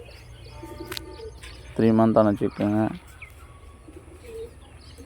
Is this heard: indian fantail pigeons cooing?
yes